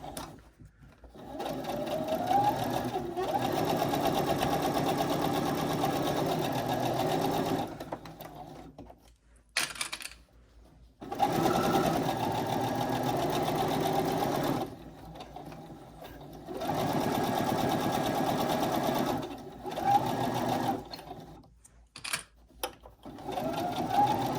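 A sewing machine runs a 3.0 stitch down a bag seam in long steady bursts of fast mechanical whirring and chattering, broken by brief pauses and a few short stop-start stitches near the end.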